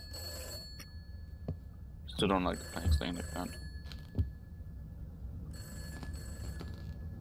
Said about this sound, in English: I don't like that phone ring because that phone is not supposed to work.